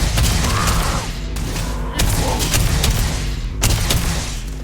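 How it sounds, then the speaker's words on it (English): Gunfire in the sci-fi game Starfield, heavy booming shots close and loud, with sharp bursts spaced out over a few seconds amid a rumbling battle background. "So shoot a civilian while they're down and get back up."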